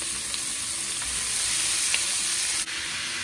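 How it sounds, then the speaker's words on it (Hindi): Minced beef with chopped garlic sizzles steadily in olive oil in a pan, a close, continuous frying hiss with faint stirring touches and no talking. "और उसमें चॉप्ड गार्लिक ऐड कर देंगे। और इसमें अब कीमा को डाल दें।"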